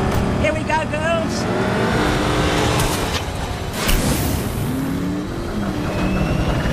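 Vehicles roar through a high-speed car chase in the post-apocalyptic Mad Max film, engines revving continuously with a tire squeal, loud and busy throughout over a dense action soundtrack.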